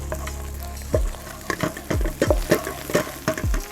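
Cubed chorizo frying hard in a pan over high heat, a steady sizzle broken by repeated stirring scrapes and spatters at a roughly regular pace, close and fairly loud.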